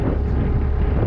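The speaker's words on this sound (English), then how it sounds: "it's still pretty windy" Strong wind on a new construction yard buffets the microphone in a loud, steady low rumble with no other sounds.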